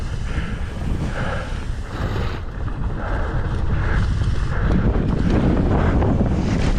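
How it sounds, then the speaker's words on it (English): A strong north to northeast headwind buffets the microphone on a boat, producing a loud, continuous low rumble and roar that swells slightly toward the end, with no voices. "Oh my gosh, that headwind."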